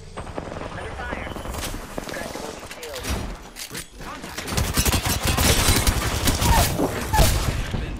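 Apex Legends gunfire during a ranked match: rapid volleys of shots and thuds that grow louder and denser toward the end, under players' voices.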